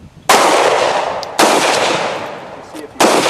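Three loud shotgun blasts fired at a painting target outdoors, spaced roughly a second and a half apart, each a sharp crack followed by a long decaying tail, with no talk over them.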